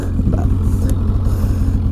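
A warmed-up Polaris Edge X 800 two-stroke snowmobile idles close by with a loud, steady, throbbing low burble and no voices.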